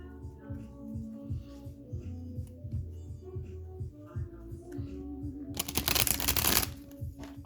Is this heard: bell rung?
no